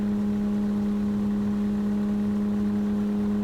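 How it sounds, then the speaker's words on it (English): Car engine in the survival video game No One Survived, running as a steady, even hum with a strong constant tone and no clear revving, heard alone without talk. "Listen to the sound of that engine purr."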